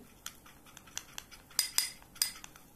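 A spoon clinks and scrapes in a small bowl while mixing a face-remedy paste, giving a handful of sharp, close metallic taps spaced unevenly, the loudest bunched near the end, with no talking.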